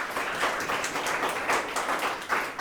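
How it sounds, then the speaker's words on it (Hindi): Sustained applause from a school class audience during a student presentation, a dense steady patter of many hands clapping nearby for the full stretch. "उसके लिए जोरदार ताली हो जाए"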